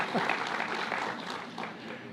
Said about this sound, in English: Let's give them a round of applause for aiming high and for being kind.